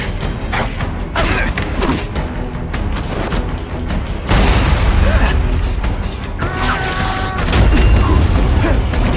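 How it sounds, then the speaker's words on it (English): A seismic blast from The Amazing Spider-Man video game lands as a heavy, loud boom with rumbling thuds and crashing debris, repeating in surges amid mechanical game effects and background combat noise. "Spidey doesn't play favorites. Neither does the seismic blast."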